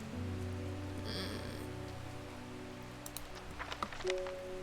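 Steady rain falling in Undermere in the puzzle game Strange Horticulture, a continuous soft hiss with a low ambient music drone underneath and a few faint chimes near the end.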